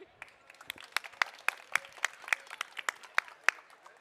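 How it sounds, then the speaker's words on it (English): An audience at the 2023 FTC robotics world championship, Franklin Division, claps in a sparse, fairly rhythmic run of distinct individual claps rather than a dense roar. "round of applause for Roseanne"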